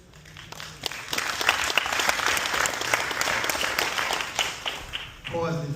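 An audience at a film Q&A at the National Museum of African American History and Culture breaks into applause, a dense, sustained wash of many hands clapping that swells and holds before a voice comes in at the end.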